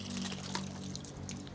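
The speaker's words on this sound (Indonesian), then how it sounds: "Nah ini yang gue siram sekarang namanya binahong guys" Water pours steadily over a binahong plant among bonsai trees, a soft continuous splashing trickle heard close and alone, with no talk.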